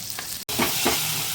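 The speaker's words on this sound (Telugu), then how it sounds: "ఎర్రగా అయితే నూనెలో ఫ్రై చేసుకోవాలి ఉల్లిపాయ ముక్కల్ని" Onion pieces fry in oil in a kadai, a steady close sizzle with soft stirring scrapes and no talking.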